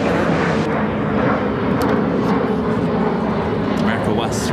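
An America West retro-livery A321 touching down on runway 28 Center at Chicago O'Hare, a steady close engine roar filling the whole moment while a voice talks over it.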